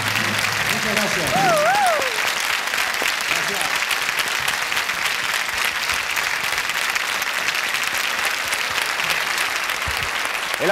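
Studio audience applauds a singer on a 1988 Spanish television variety show about 1960s and 70s music, a steady dense wash of clapping filling the whole stretch, with a brief sung or spoken vocal line near the start.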